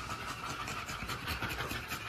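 Rapid, heavy panting from breeding dogs in warm conditions, a continuous rhythmic huffing close to the microphone with a faint engine hum in the background.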